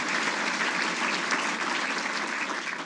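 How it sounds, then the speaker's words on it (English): A large audience at an awards ceremony claps in a dense, even wash of applause that holds steady and fairly loud from start to finish. "A round of applause to all of the participants and the people who helped to put this great ceremony on."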